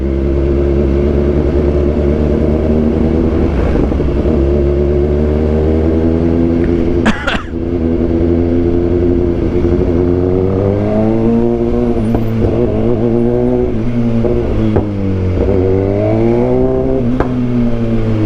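BMW S1000XR motorcycle engine revving continuously while riding, with steady loud engine drone and rising and falling pitch sweeps as the throttle opens, plus a brief sharp burst midway.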